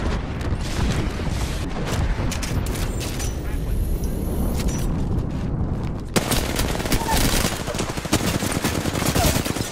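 Heavy video game gunfire with rapid automatic bursts and booming shots, loud and continuous throughout, growing denser near the end, with a player talking over part of it.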